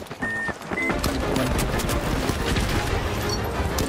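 An automatic turret firing in the arena shooter The Finals, a steady rapid mechanical rattle of shots, loud and close, running continuously with a few brief electronic tones early on.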